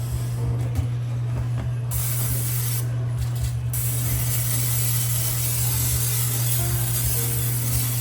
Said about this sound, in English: make sure you spray your basket.